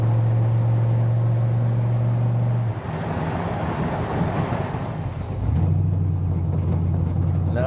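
A 1951 Chevrolet five-window pickup truck engine drones steadily at road speed, its low tone dipping briefly before the throttle opens and the engine note rises again, with road and wind noise filling the background.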